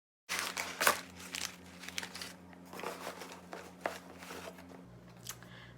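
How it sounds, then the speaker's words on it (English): Brown packaging paper crinkles and rustles close up while a candle order is unboxed, a run of irregular crackling bursts with short pauses between handlings. "When I open it up, there is some brown packaging."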